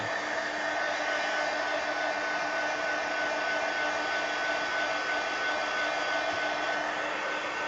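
A hair dryer drying paint on an art journal page runs steadily and loudly for the whole stretch, a constant broadband whoosh with a faint steady whine, no talking.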